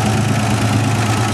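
An old GMC Jimmy truck idles steadily just after a jump start, a continuous low rumble with a faint lifter rattle. The engine sounds close and even and runs alone with no voices.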